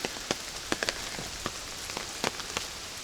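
Rain falls steadily in a mountain valley in Japan, a soft, even hiss dotted with sharp, close drips and patters at irregular intervals, with no voices.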